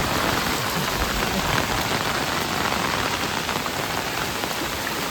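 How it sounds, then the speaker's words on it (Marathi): Heavy monsoon rain pours without pause on the way to a waterfall in a Konkan village, a thick, loud, even roar of drops on surfaces with no voices. "बघा पाऊस मोठं इल्लेलो असा"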